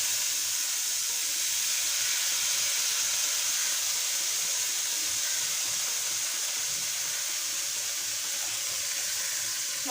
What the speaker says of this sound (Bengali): এখন সব একটু ভেজে নিচ্ছি হালকা করে